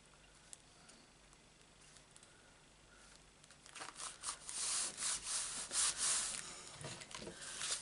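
Close rubbing and scratching strokes as the corners of a wooden gift box piece are sanded round, quiet at first, then growing louder in repeated rhythmic passes.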